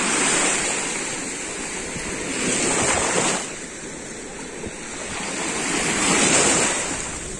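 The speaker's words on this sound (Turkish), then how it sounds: "Biraz dalgalandı değil mi?" Sea waves washing onto a beach, rising and falling in two slow surges with a broad hiss of surf and some wind buffeting the microphone, close and fairly loud with no talking.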